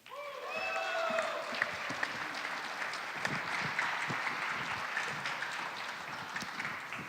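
A crowd at a 2018 Republican governor candidates' debate breaks into sustained applause, many hands clapping together in a full, even roar that carries on for several seconds.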